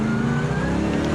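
Ford Mustang RTR Spec 5 drift car engine at a Formula Drift event at Irwindale, a loud, steady high-revving roar held close for just over a second.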